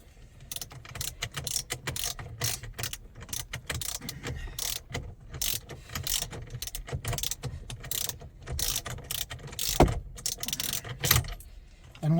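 A ratchet clicks in quick irregular bursts while loosening a 24 mm steering wheel bolt on a Ford Mustang, close and fairly loud, with brief pauses between strokes and no talking.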